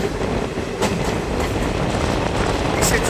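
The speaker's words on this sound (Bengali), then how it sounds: "আমাদের ট্রেন তার স্পিড তুলতে শুরু করেছে" A train on the Azimganj to Nalhati line picks up speed, giving a steady close rumble with rail clatter throughout.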